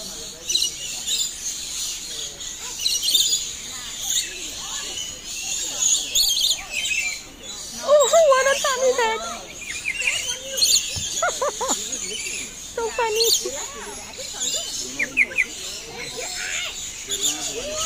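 Lorikeets at Jurong Bird Park give shrill chirps and squawks close by, with many more birds chattering steadily in the background while people talk softly.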